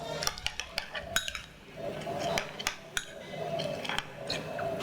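Utensil stirring a sauce of shallot, salt, sweet soy sauce and kaffir lime juice in a bowl, with a string of quick clinks and scrapes against the dish, close and moderately loud, and no talking.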